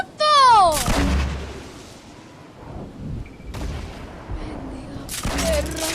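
RPG rocket blasts in the Fortnite video game, two loud booming explosions about four seconds apart, each with a sharp crack and a rumbling tail, the first preceded by a whistling launch sweep.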